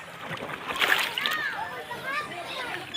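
Sea water splashing and sloshing nearby at high tide, with a voice calling out over the watery noise.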